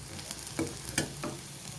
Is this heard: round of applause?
no